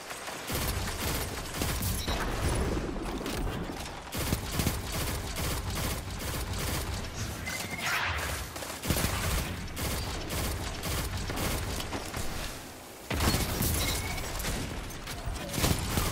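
Rapid pulse rifle fire from the shooter game Destiny 2 rattles in repeated sharp bursts, with brief pauses between volleys, under a dense layer of game sound effects.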